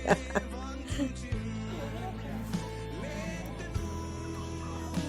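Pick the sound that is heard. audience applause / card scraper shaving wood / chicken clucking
chicken clucking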